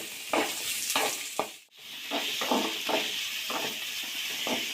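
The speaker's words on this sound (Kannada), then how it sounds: "ಕಟ್ ಮಾಡ್ಕೊಂಡಿರೋಂಥ ಈರುಳ್ಳಿ ಹಾಕ್ಕೊಳ್ಳಿ. ಹಾಕಿ ಫುಲ್ಲು ಬ್ರೌನಿಷ್ ಆಗೋವರೆಗೂ ಹುರ್ಕೊಳ್ಳಿ." Chopped onions fry in oil in a pan for chicken korma, a close, steady sizzle with regular scraping strokes of a stirring spoon and a brief dip partway through.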